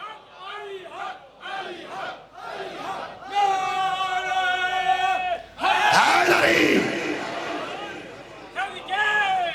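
A congregation at a Shia majlis for Maula Ali on 21 Ramadan chants slogans back in unison, several loud rhythmic group shouts with sustained vowels, ending in a surging roar of voices.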